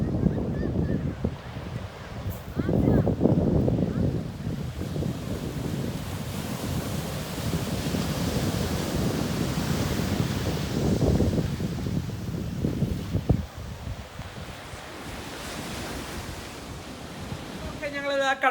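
Sea waves wash beside a boat where a river meets the sea, a steady rushing surf broken by strong wind buffeting against the microphone. The roar rises and falls and stays fairly loud throughout.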